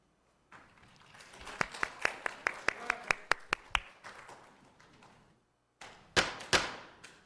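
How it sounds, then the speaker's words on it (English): Applause from an audience at a city council meeting: a burst of sharp, uneven hand claps that thins out, falls quiet, then starts up again briefly. "No more clapping."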